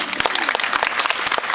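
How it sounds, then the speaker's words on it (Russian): Audience applause at the Pole Sport International 2011 award ceremony, a steady burst of dense clapping from a crowd filling the short moment. "Да, давайте еще раз подарим аплодисменты."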